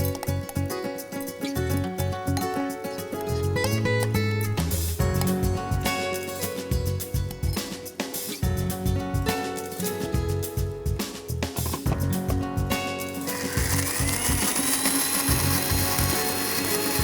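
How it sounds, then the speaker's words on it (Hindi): A blender grinds a coconut masala mixture with water, whirring loudly for a long stretch, its motor pitch shifting and rattling as the contents churn, ending in a steadier high whine. "और इसे ब्लेंडर में चलाएंगे।"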